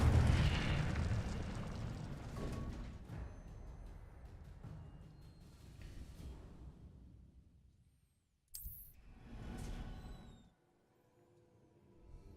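A fiery magical burst erupts loudly as a Harry Potter Incendio spell is cast, a roaring whoosh that fades over several seconds, followed by a sharp crackle and a shorter flare that dies away.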